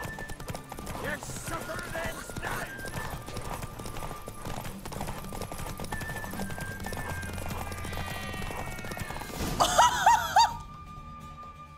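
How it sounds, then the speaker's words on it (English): Hoofbeats of a horse galloping in a race in the video game Witcher 3: Wild Hunt, a steady clip-clop under game music and effects, ending in a brief louder burst of sound. "This is my first time losing a horse race."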